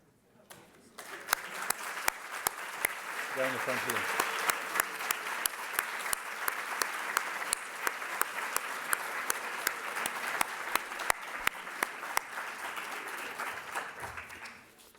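Evening lecture audience at the Getty Villa applauding Villa Council members with sustained, even clapping that swells after a quiet start, with sharp individual claps standing out, a brief remark, and a fade at the end.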